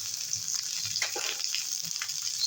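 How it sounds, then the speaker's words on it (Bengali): A little water poured into a cooking pot for a sea fish curry with potato, eggplant and drumsticks: a steady close hiss and splash, moderately loud and continuous over a soft background hum. "সামান্য একটু জল জলটা দিলাম"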